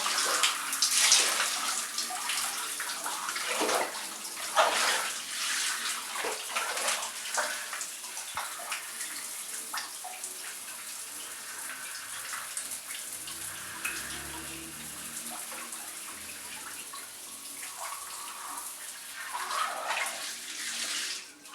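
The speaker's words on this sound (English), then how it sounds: "I'll finish the rest of my shower later." Shower water runs steadily for a long stretch, a close, hissing spray with splashes and irregular patter as it hits hair and body, growing slightly louder toward the end.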